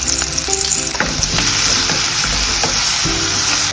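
Onions fry in coconut oil with salt in a loud, close sizzle, broken by scraping stirs and clinks of a utensil against the pan throughout.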